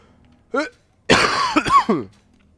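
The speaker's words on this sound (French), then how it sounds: "Même si je tousse encore un peu, comme vous voyez." A harsh cough bursts out close up, followed by throat-clearing sounds mixed with short vocal noises.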